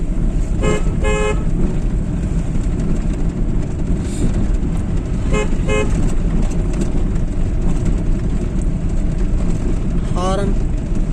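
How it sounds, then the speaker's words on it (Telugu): A driving-school car's horn gives several short toots, a pair early, another pair midway and one near the end, over loud constant road and engine rumble. "హారన్,"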